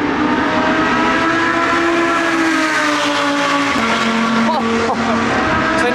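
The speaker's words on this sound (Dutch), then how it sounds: "Hoor hoe luid deze Audi R8 is." A loud Audi R8 sports car roars at a race circuit in Italy, a sustained, full-throttle engine howl with shifting pitch that fills the clip, close and dominant.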